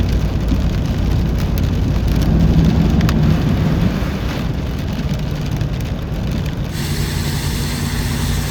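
Heavy rain falls during a flood warning in Abbotsford, a loud, dense and steady roar of downpour that holds constant throughout.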